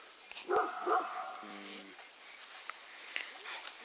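Two sharp barks early on from crossbred and Aksaray Malaklı shepherd dogs, followed by a brief whine and quieter outdoor ambience.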